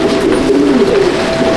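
Madrasi pigeons coo in a close, steady run of low throaty calls that carry on without pause through the short stretch.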